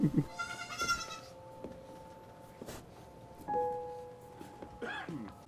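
A goat bleats several times, with wavering, nasal calls scattered across a few seconds over faint background noise.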